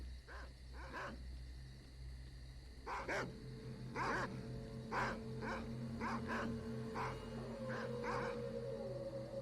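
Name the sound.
dog barking in video game S.T.A.L.K.E.R.: Call of Pripyat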